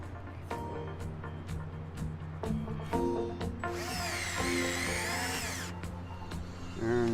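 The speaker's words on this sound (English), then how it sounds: "And now we can start putting in our fasteners." Power tool driving fasteners into a magnetic coil control panel, with sharp close clicks and knocks followed by a loud whirring run of several seconds that then stops.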